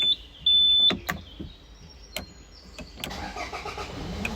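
A 2014 Toyota Hilux with a 2.5 D-4D diesel engine cranks briefly and fires up, settling into a low idle after a few clicks and a short electronic beep.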